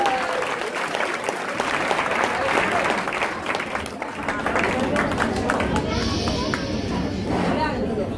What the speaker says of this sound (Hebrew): כפיים לחיים וגליל.